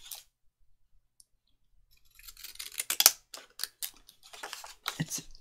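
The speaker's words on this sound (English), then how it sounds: "Actually, I might use my scissors on that bit there" Scissors cut paper to make junk journal tags: after a near-silent start, a run of crisp, close snips and clicks comes in quick, uneven succession.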